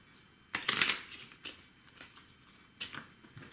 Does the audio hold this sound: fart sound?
no